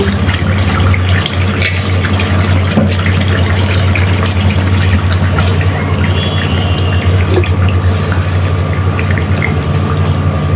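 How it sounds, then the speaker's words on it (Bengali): Hot water is poured into a pot of duck curry that has been cooking in oil, giving a loud, steady rushing pour with a bright watery hiss that runs unbroken close to the microphone. "এখন আমি এর মধ্যে গরম পানি দিয়ে দিব।"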